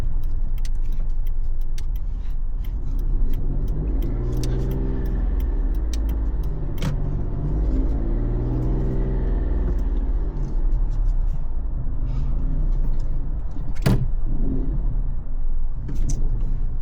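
A car parking at a UK petrol station, a low steady engine rumble with a couple of rising and falling revs as it manoeuvres, plus a few small clicks and one sharp knock near the end.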